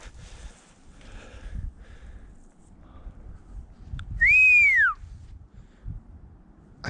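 A single clear human whistle, a rising-then-falling swooping tone lasting under a second, sounds out in quiet woods amid faint rustling and low wind, followed by stillness.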